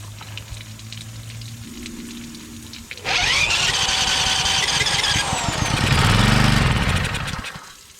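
A small gas engine on a pressure washer salvaged from the dump catches and runs, roaring loud and steady with a rough, raspy tone after a quieter stretch of handling noise.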